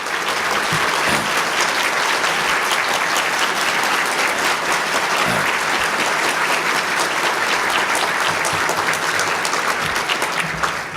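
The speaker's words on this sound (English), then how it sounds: "they really deserve a round of applause for a great deal of hard work." Sustained applause from an audience at a college award ceremony fills the room, a dense, even wash of clapping that holds steady and loud throughout.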